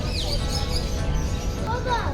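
Birds chirp in short whistled calls, one early and a rising-falling pair near the end, set against steady, busy background noise.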